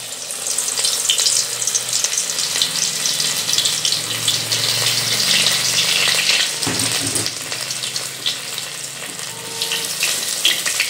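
Jute leaf pakoras frying in hot oil give a loud, continuous bubbling sizzle, with a short clunk of handling partway through.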